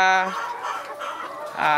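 Chickens in a poultry house cluck and crow in short, close bursts, with a rooster-like call at the start and end.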